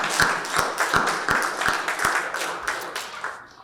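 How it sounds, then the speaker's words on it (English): Hand clapping from an audience at a Martin Luther King Jr. ceremony in Cleveland Heights, with sharp individual claps standing out over a broader patter, tapering off toward the end. "Please give yourselves a round of applause for that"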